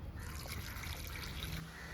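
Water poured over chopped raw mango for pickle, a soft steady trickle with light splashing, close and quiet throughout.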